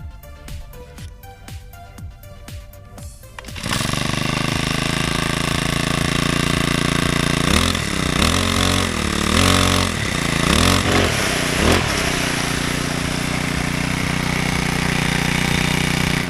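An overgrown-grass brush cutter engine, not running smoothly, starts after a few seconds of faint ticking and then runs loud and close, its revs surging and dipping in a rough cycle before settling into a steady roar.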